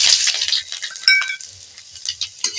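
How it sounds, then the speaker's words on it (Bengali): Bay leaf, dried red chilli and panch phoron frying in mustard oil, a steady close sizzle with light crackles and a few brief stirring clinks, no talking. "তেজপাতাটা একটু বেশ কালো করে ভেজে নেব এবার দিয়ে দেব শুকনো লঙ্কার পাঁচ ফোড়ন"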